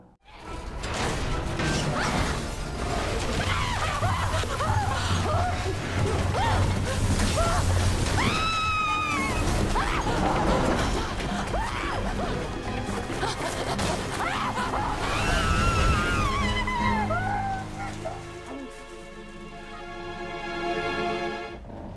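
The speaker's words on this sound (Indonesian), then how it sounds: "Sebuah rumah kaca seukuran gedung yang runtuh sendiri tanpa ada yang menyentuhnya." A building-sized glass house collapses on its own, giving a sustained loud roar of crashing, smashing and whooshing debris that runs for about twenty seconds and thins out toward the end.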